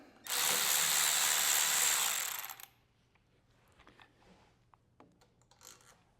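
A small socket ratchet spins out a long carburetor bolt on a Toro Power Max 726 snow blower in a loud, steady two-second whirring burst, followed by quiet faint clicks and handling.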